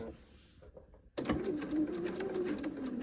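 A domestic sewing machine stitches straight across pieced quilt fabric: after a quiet start with soft handling noises, the motor starts abruptly and runs as a steady, close whirring drone with rapid needle ticks until the end.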